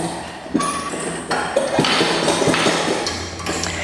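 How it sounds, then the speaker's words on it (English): Springs are swapped on a Flexia Reformer Pilates machine, giving a few short metallic pings, taps and light thuds over a shuffling background, close and fairly loud. "we're gonna change our springs"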